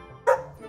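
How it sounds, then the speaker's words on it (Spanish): A single short, sharp bark from a pet dog, loud and close, with nothing else heard around it. "Es Leo, mi perro, que quiere salir a pasear."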